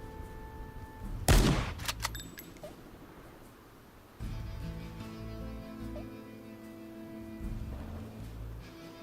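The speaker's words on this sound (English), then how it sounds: "Use up the second shotgun shot." A single sharp shotgun blast rings out in the video game Worms WMD, loud and abrupt, followed by a short echoing tail and then quieter in-game music and ambience.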